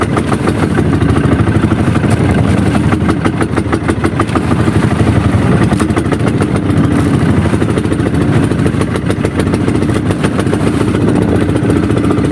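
A boat's engine chugs steadily and loudly with a rough, clattering rhythm, running without a break from start to finish.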